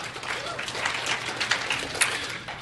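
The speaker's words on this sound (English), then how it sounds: "thank you for that half-assed applause" Audience applause at an Alcoholics Anonymous talk, a brief patchy round of clapping from a modest crowd with a few sharper individual claps standing out.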